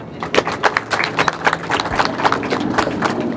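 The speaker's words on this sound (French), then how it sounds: "On applaudit très fort" An audience applauding at an institute inauguration in Senegal: dense, continuous clapping with many overlapping sharp hand claps, fairly close and loud throughout.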